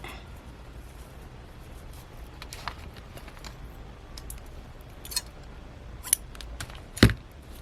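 Scissors snipping through a ribbon loop while a shabby chic mason jar junk journal page is made: quiet rustling and handling, then a few sharp, close cuts, the last one loudest, with no talking.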